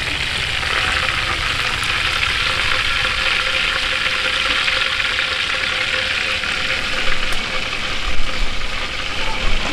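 Fish sizzling in hot oil in a pan at an outdoor cooking setup for escabeche, a loud steady frying hiss throughout with a low engine-like rumble behind and a brief stir or shuffle near the end.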